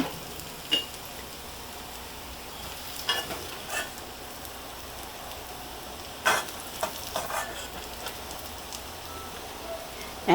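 Onions sizzle in hot oil for a brinjal and hilsa mash, a low continuous frying hiss with occasional sharp knocks and scrapes from stirring, close up and fairly quiet.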